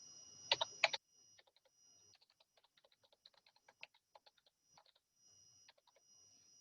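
Someone types a message into an online chat on a computer keyboard, quick, light, close key clicks in uneven bursts after a couple of louder taps at the start, with quiet gaps and no speech.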